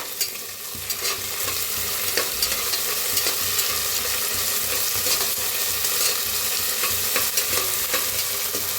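Green chillies, onion and peanuts roast in a pan with a continuous, close sizzle, broken by frequent light scrapes and taps as they are stirred, and no talking.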